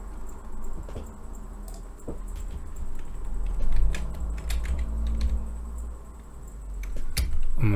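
Continuous typing on a computer keyboard, a steady patter of close, moderately loud key clicks with occasional sharper strokes, no voices.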